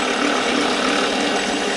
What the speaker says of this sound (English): I don't have much further to go on this drill bit